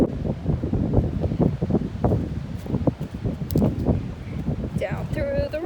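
Wind buffets the microphone on a rocky mountain hiking trail in Greenwood Furnace State Park, a continuous low rumble under a person's speech.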